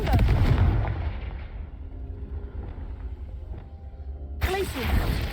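A Confringo explosive spell in a video game bursts with a loud, deep boom, then rumbles and fades into a quieter ringing tail before a second sharp burst near the end.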